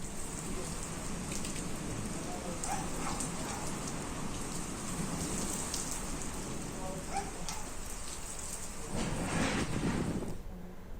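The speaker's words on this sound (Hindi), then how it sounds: "बागेश्वर में भी तेज हवाओं के साथ झमाझम बारिश हुई है" Heavy rain pours down with strong wind in Bageshwar, Uttarakhand, a dense, steady hiss and patter that holds for about ten seconds before briefly swelling louder near the end, with no voices.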